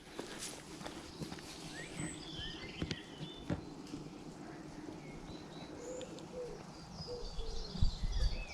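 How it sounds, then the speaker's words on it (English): Pigeons coo softly while a chiffchaff repeats thin chirping notes, with occasional footsteps and rustling nearby in a quiet outdoor setting with no airplanes overhead. "All you hear is pigeons and the chiff-chaff."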